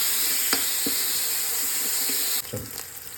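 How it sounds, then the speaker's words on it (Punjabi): Tomatoes and onions frying in a pan for jeera aloo, a steady hiss of sizzling with a few soft spoon taps and stirring clicks, the sizzle dropping slightly near the end. "ਹੁਣ ਆਪਾਂ ਟਮਾਟਰ ਨੂੰ ਵੀ ਇੱਕ ਦੋ ਮਿੰਟ ਲਈ ਜਿਹੜਾ ਫਰਾਈ ਕਰ ਲਾਂਗੇ"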